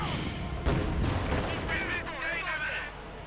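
Artillery barrage in the World War II strategy game Company of Heroes 2, a sharp distant boom followed by sustained rumbling fire and whistling shells, mixed with game effects.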